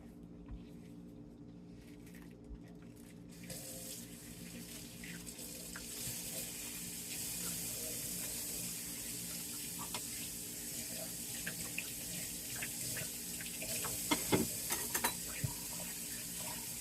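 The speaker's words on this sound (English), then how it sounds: "You can wash the dishes, no matter." Kitchen faucet running into a sink while dishes are washed during baklava making, a steady close splashing hiss that starts quietly, grows fuller after a few seconds, and has occasional clinks of dishes, with no speech.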